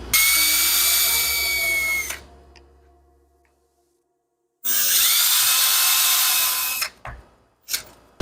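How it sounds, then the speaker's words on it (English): Power drill boring and countersinking holes in MDF strips for Christmas woodworking pieces, two sustained high whining runs of about two seconds each separated by a quiet pause, with brief clunks and rattles as the bit stops, close and loud. "I'm gonna drill and countersink some holes in each one"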